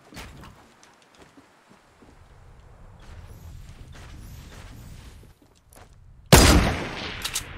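Gunshots in a sniping video game, sparse scattered shots and mechanical clicks over low rumble, ending with a sudden loud, close blast that decays.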